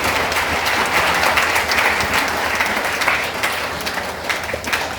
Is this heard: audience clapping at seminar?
yes